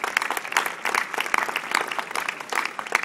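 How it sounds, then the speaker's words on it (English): Audience gives a round of applause, an uneven burst of clapping from a modest crowd with irregular surges and dips throughout. "we need to give them a round of applause"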